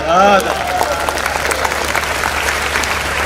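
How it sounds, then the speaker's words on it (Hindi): Applause from an audience at a Hindi comic poetry gathering, a steady wash of clapping that follows a brief vocal cheer at the start. "तालियां कमजोर दिए।"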